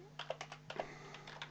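Keys clack on a computer keyboard as an address is typed, a quick, uneven run of close, crisp taps over a steady low hum.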